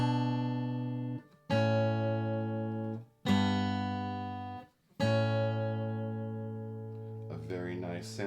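Fingerstyle acoustic guitar plays a four-pinch pattern, the thumb and index finger plucking strings together. Four ringing chords start cleanly about every 1.5 seconds and fade before the next, followed by a brief softer tail at the end.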